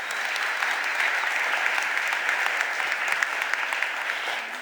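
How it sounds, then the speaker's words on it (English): A room full of people at a Philadelphia city council meeting applauds steadily, a dense even wash of clapping sustained throughout at moderate loudness with no voices on top. "Let's give them a round of applause."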